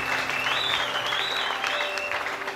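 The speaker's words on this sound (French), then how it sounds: "Est-ce que quelqu'un peut acclamer pour les amen." A church congregation at a Sunday service applauds, with steady, close clapping from many hands running throughout and a faint sustained tone behind it.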